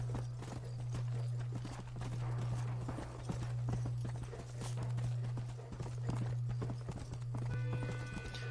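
Horse hooves clip-clop steadily in the Red Dead Redemption video game, a rhythmic walking gait under a constant low hum, with a brief whinny-like tone near the end.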